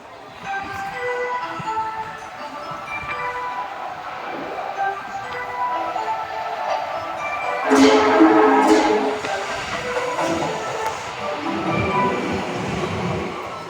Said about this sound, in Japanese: 番線に夢島行きが到着します